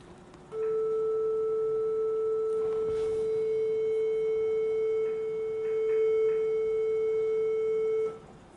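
A steady synthesized triangle-wave tone from an analog synth holds at one pitch for about eight seconds, with faint harmonics above it, starting and stopping abruptly.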